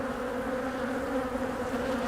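Honey bees swarm over a hive lid during spring supering, a dense, steady buzzing hum held close and constant throughout with no voices.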